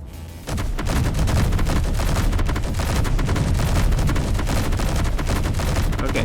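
Sustained weapon fire in the Space Engineers video game, pounding a space station in a dense, continuous barrage of rapid bursts that stays loud throughout.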